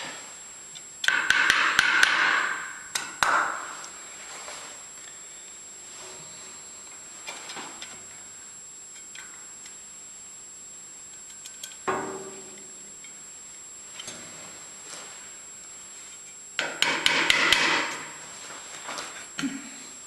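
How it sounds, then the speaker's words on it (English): Parts are tapped and hammered into an American Pacemaker lathe during reassembly, with two bursts of rapid sharp metallic blows and scattered single knocks between quiet stretches, a steady high hum in the background. "Try to get all of them in a little ways before I hammer them home."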